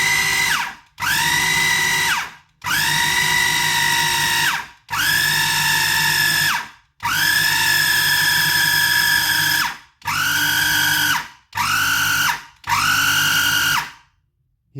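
Food processor pulsing biscuit dough after the last of the flour goes in, nine loud whirring bursts of one to three seconds each, separated by short silences, with the motor sounding strained.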